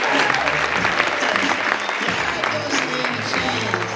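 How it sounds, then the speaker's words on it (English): Audience applause for barista Talya after her signature beverages at the United States Barista Championship, a continuous roar of clapping with some crowd noise underneath that fills the whole four seconds at steady volume. "Let's give Talya a round of applause for those signature beverages"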